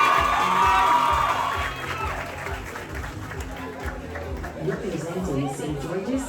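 Crowd cheering and applause for a contestant at a junior tourism ambassador pageant, a loud burst at first that settles into steady, busy crowd noise with voices mixed in.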